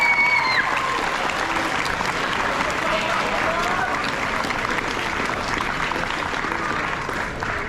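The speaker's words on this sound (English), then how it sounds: "one more round of applause for all of them." Audience applause at an 8th grade awards ceremony, a sustained wash of clapping from a crowd of families and students that holds steady throughout, with voices mingled underneath.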